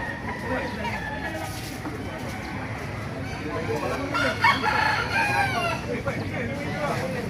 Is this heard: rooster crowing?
yes